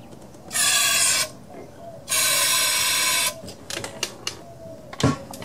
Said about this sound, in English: first I'm going to spray some carb cleaner in there.